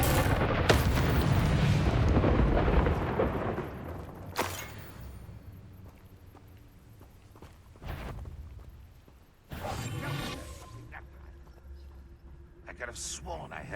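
Incendio fire spells from Hogwarts Legacy erupt as a handful of booming, crackling blasts, spaced irregularly over a steady game ambience, the first burst long and roaring, later ones shorter and sharper.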